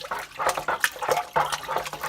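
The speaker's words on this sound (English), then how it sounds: "Now I'm just going to stir that up as best as I can." Dark beer extract being stirred by hand into water, giving repeated close sloshing, swirling splashes in an uneven rhythm with no talk.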